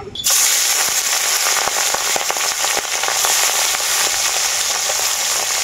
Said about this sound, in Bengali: এখন আমি লবণ হলুদ মাখানো মাছগুলো দিয়ে দেব।